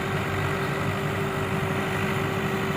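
A tractor engine running in a field, a steady loud low rumble with a constant hum and no pauses, heard up close without talk.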